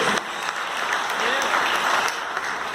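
A church congregation applauding during a worship service, dense sustained clapping from many hands filling the room, steady and loud throughout with voices mixed in.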